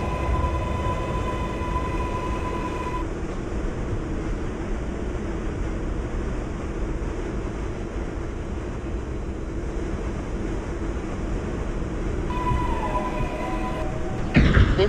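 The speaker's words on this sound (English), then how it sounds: "This is a Brooklyn Bridge bound 6 train." A simulated NYCT R142A subway train on the IRT 6 line runs with a steady, loud rumble and wheel roar, tonal motor whine at start and end, and a brief clatter at the close.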